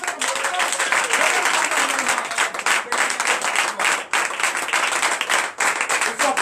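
A crowd at a night prayer service applauds the president with loud, rapid clapping that surges in repeated waves with brief dips, voices faintly mixed in.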